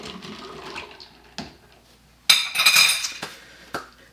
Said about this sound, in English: Let's give a quick stir.